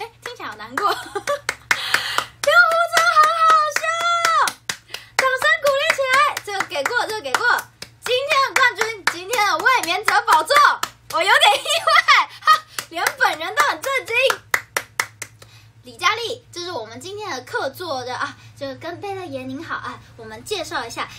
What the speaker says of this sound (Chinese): 这绝对是我为了贝勒爷鼓掌最激烈的一次